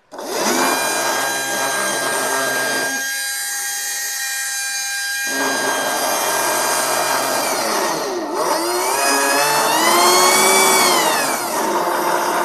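A small DC motor driven from a benchtop dual DC power supply, whining steadily and loud, its tone shifting and sweeping in pitch partway through, with no talking over it.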